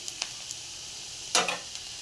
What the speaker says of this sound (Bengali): আমি হাই ফ্লেমেই ভাজছি।